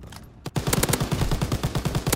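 A machine gun fires from an MG nest in a video game, a rapid, steady burst of close, evenly spaced shots that runs without a break.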